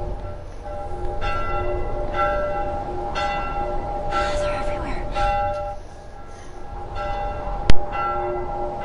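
Repeated resonant bell strikes peal at a steady pace of about one per second in The Last of Us, ringing tones lingering over a low rumble, with a sharp click near the end.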